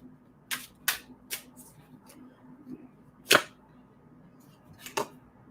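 Playing cards are handled and shuffled in short, separate bursts: crisp snapping flicks and riffles spaced a second or so apart, one louder than the rest, over a quiet room hum with no talking.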